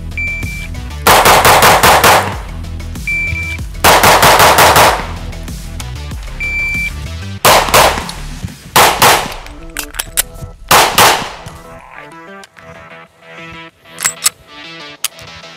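A Beretta APX Centurion pistol fires at a shooting range in loud, rapid strings of shots, several volleys separated by short pauses, close and sharp.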